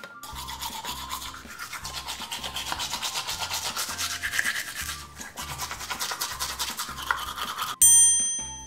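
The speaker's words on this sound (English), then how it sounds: "I'll give him a good brush with lots of toothpaste" Steady rhythmic scrubbing of a toothbrush, close and continuous, with a light bright chime at the very end.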